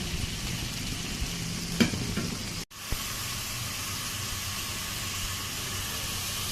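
Potatoes frying in hot oil in a pan for a Bengali rohu fish curry with eggplant, a steady close sizzle and hiss with a faint clink and a brief break in the sound, no talking.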